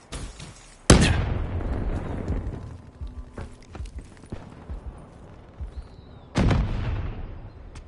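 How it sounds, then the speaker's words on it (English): In a PS4 shooter game, two sharp, heavy blasts from frag grenades go off nearby. One hits about a second in and the other near the end, each followed by a rumbling decay, with quieter battle noise in between. "Frag close."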